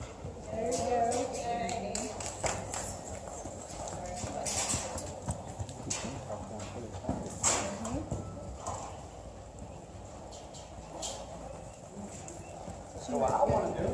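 Hooves of a gaited horse under an English rider in a round pen, a steady clip-clop rhythm heard close with a person talking over it and birds in the background.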